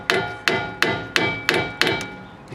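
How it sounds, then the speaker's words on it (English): Six sharp, evenly spaced hammer blows on metal while a part is driven into place on an Alfa Romeo GT/147/156 rear suspension, each strike ringing briefly. No talking. "Is to hammer that in place as much as you can get it"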